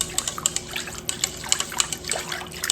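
A spoon stirs a yeast mixture into a milk mixture in a bowl, making quick, light liquid sloshes and clinks in an uneven rhythm, close by with no talk.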